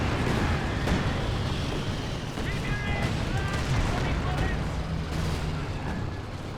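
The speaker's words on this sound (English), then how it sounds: "Katyusha firing." Katyusha rocket artillery fires in the WWII strategy game Company of Heroes 2 during a 4v4 match, a dense continuous barrage of rumbling launches and explosions with whistling streaks, under steady battle noise and a commentator's voice.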